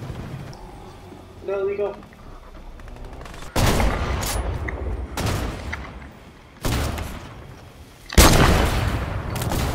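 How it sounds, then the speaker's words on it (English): Gunfire from an enemy player in Fortnite: several loud bursts of rapid shots, the last one strongest, spaced a few seconds apart, with a brief spoken remark near the start. "This man shooting me all the way over there."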